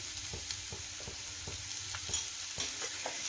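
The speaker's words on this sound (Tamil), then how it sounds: "அப்படி பிடிக்காமல் இருக்கிறதுக்கு நம்ம கொஞ்சம் வதக்கிண்டே இருக்கணும்." A spoon stirs potato and green chana curry while it sautés and sizzles in a pan, with soft regular scraping strokes over a steady frying hiss, close and fairly quiet.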